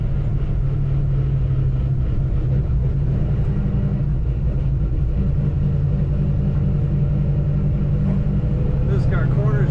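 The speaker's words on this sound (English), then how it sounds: "Definitely get a nice rumble from that exhaust in this car." A 1966 Chevrolet Nova drives with a steady, deep exhaust rumble heavy in the low end, constant and close throughout with road noise, and a voice may be faintly present underneath.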